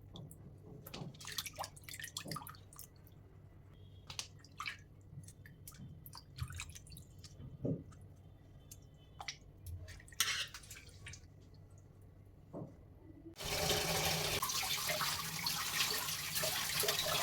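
Tomatoes being washed at a kitchen sink: scattered drips, splashes and handling noises, then the tap is opened fully and a loud, steady rush of running water fills the last few seconds.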